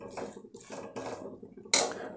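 A spoon scrapes and stirs a thick coconut and jaggery laddu mixture in a pan, producing soft, repeated scraping strokes in a steady rhythm that end in a sharp metallic clink.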